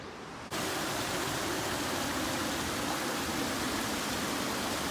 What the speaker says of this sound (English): I see a little waterfall